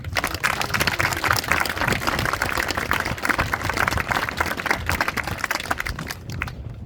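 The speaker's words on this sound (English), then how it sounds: "Let's clap it up for him." A crowd applauds at an outdoor school plaza dedication, dense and steady clapping lasting several seconds before tapering off near the end.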